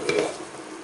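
A tortilla sizzles in a pan as its second side cooks, a soft, close frying hiss with a brief louder burst at the start that settles into a quieter sizzle.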